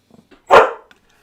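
Puppy named Milo lets out a single sharp, loud bark close by, after a few faint small sounds, then falls quiet.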